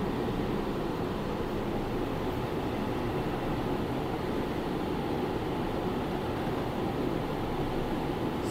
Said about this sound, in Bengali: আমাদের মেট্রো এখন চলে এলো সত্যজিৎ রায় রেলওয়ে স্টেশনে